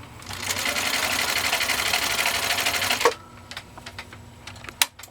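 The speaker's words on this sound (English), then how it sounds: "here we go. 14 layers of canvas binding tape." Husqvarna Viking 21-A sewing machine punching through 14 layers of canvas binding tape, a steady fast mechanical whir for about three seconds, then stopping into faint clicks and handling noises.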